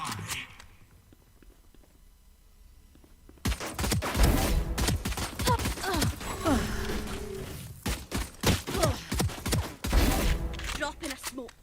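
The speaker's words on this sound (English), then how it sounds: "Let the bullets fly." Gunfire in a Valorant match bursts out after a quiet start, dense rapid shots and impacts rattling on continuously at close range with loud game effects mixed in.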